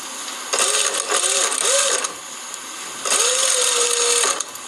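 A sewing machine stitches a seam with a rapid whirring hum in three short bursts, a pause, then one longer run, close and clear with no talking.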